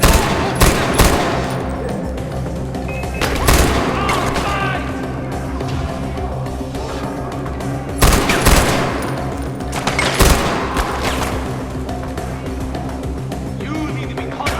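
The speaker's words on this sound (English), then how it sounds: "Especially when for some reason it's man portable and firing 8mm Mauser." A man-portable gun firing 8mm Mauser rounds in a Far Cry game: loud, dense strings of automatic fire with heavy booming impacts that keep going, with peaks that rise and fall.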